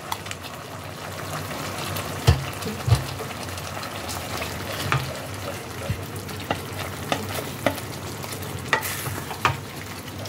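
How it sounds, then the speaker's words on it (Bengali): Spice paste for paneer kali mirch in white gravy sizzles in a pan after a splash of water, with a continuous frying hiss and repeated spatula taps and scrapes at an uneven rhythm. "জল দিয়ে মশলাটাকে আবারও একবার ভালোভাবে কষাতে হবে"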